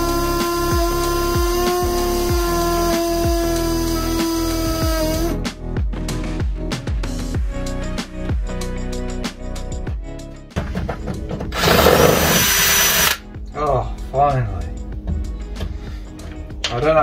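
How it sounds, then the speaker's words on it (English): A power drill bores out fixings inside a Peugeot Partner van, with repeated short bursts of loud whirring and grinding between pauses and clatter, plus one longer, harsher spell of drilling near the end. "I think that's it, two to drill out."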